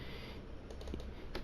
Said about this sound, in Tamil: இங்கே உங்கள் அட்ரஸ் பாரில் class.google.com டைப் பண்ணுங்கள்.